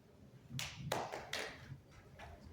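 Scattered audience applause after a talk on the archives of insurgency, a few sharp claps building into brief bursts, fairly quiet and close, with no talk over it.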